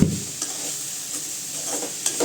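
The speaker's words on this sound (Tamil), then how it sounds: "நல்லா சூட்டில் கிண்டி விடணும் தேங்காய் போட்டதுக்கப்புறம்" A spinach stir-fry with grated coconut sizzles in a hot pan as a spoon stirs it. A few soft scrapes and taps sit over a constant close hiss.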